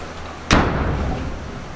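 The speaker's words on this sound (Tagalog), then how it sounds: "Ang lakas ng pagsara ng pinto" A door slams shut in a single loud, close bang, and a short rumbling decay trails after it in a night-time horror scene. No voices are heard.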